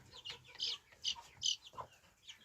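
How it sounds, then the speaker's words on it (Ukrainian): Several short, faint quacking calls from a duck, spaced irregularly with quiet gaps between them. "Тут качка. І тут качечка."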